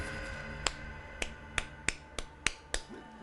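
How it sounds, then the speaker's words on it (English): A hand repeatedly slaps a face: seven sharp, quiet smacks at an uneven pace, each clearly separate, over a faint steady background hum. "That is the sound of me facepalming over and over and over again."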